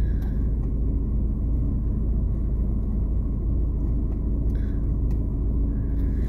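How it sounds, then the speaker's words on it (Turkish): A car engine idles to warm up on a cold day, a steady low rumble heard close from inside the car, with faint clicks on top. "Şu arabayı bir ısıtalım."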